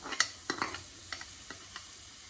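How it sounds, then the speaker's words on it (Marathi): Onions stirred in hot oil in a pan: a string of sharp scraping and clinking clicks at uneven intervals over a faint, quiet sizzle, close by with no voices. "कांदे मातशें फ्राय करून घेता."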